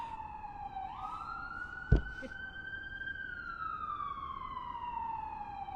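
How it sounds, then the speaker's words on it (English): An ambulance siren wails past nearby, its tone rising and holding, then sliding lower as it moves on over steady street noise, with one sharp knock in the middle. "an ambulance drives by"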